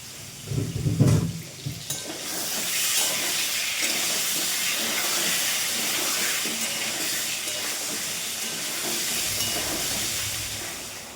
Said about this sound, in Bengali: দেখো মাংস বসিয়ে দিয়েছি, অলরেডি আমার মাংস অর্ধেক হয়ে গেছে